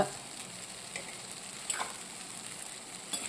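Diced potatoes fry and sizzle steadily in oil in a pan, with a few soft scraping stirs of a utensil cutting through the constant close crackle; no one speaks.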